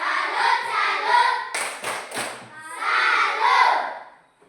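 Children in a Christian lesson doing the tepuk salut rhythmic clap cheer: a quick burst of three sharp claps between stretches of chanted voices, close and fairly loud.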